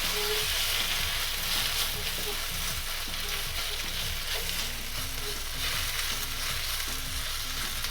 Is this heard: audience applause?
no